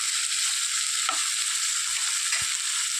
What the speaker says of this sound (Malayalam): ഈ സവോളയൊക്കെ നന്നായിട്ടൊന്ന് വഴന്ന് വരട്ടെ.